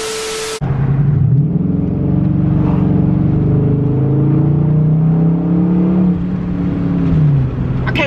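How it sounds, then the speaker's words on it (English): A Dodge Charger SRT8 engine accelerating, a loud, close, steady rumbling roar with rising and falling pitch as it pulls, starting abruptly after a brief burst and running continuously to the end. "SRT sound."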